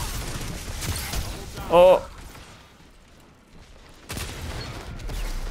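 A shotgun fires in a video game, a single sharp burst with a brief tonal ring near the middle, surrounded by game ambience and a player's excited voice before and after.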